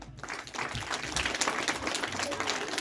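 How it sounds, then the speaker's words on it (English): A crowd applauds, dense clapping that swells and holds steady, with some voices and cheering mixed in. "A big round of applause."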